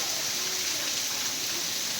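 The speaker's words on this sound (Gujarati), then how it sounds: "સારો એવો વરસાદ પડી રહ્યો છે." Steady morning rain falls over Kalasar near Chotila, a dense, even hiss of drops with no break, close and moderately loud, with only a light wind.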